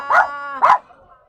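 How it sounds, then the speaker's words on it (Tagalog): Two deep, loud barks from a large dog, a short pause between them, then quiet. "doon pala yung malaking aso"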